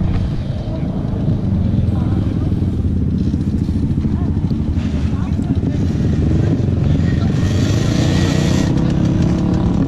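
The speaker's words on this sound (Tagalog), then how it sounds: "Ayan ang daming motor oh." A crowd of motorcycles rumbling and revving on red desert sand near Riyadh, Saudi Arabia, during a riders' meetup; steady, loud engine drone throughout with voices talking over it.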